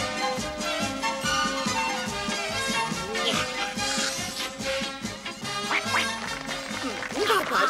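A cartoon duck quacks amid busy, faint background music and voices during an Easter celebration scene, short nasal calls mixed under the soundtrack.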